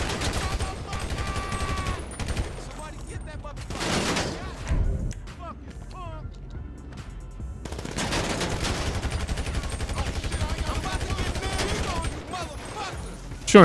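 Rapid gunfire bursts in GTA 5 on Grove Street, with fast volleys near the start and again through the second half, and voices and other game sounds in between.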